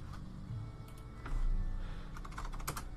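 Fingers tap at a computer keyboard in quick irregular bursts of clicks, close and fairly quiet, with no voices over them.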